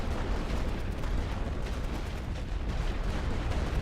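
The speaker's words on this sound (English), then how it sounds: "Oh yeah, artillery is definitely firing on him." WW1 artillery in The Great War: Western Front booms as a steady rumbling bombardment, thuds blending into one continuous, heavy roar with no clear gaps between the shots.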